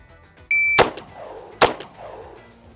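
A timed pistol shooting drill on a range: a shot timer beep sounds, then two sharp, loud pistol shots follow about a second apart, each ringing out briefly against a quiet background.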